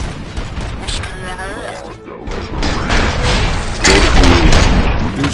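Gunfire and crashing impacts from the Robocop video game, several loud bursts and booms crowding together with some mechanical clatter, while voices talk over the chaotic action.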